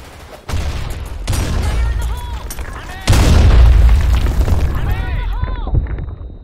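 Grenade blasts in the shooter game BlackShot: a loud boom at about half a second, then a bigger, heavier explosion around three seconds that rumbles and fades. Squeaky synthetic effects and voice lines sit over it.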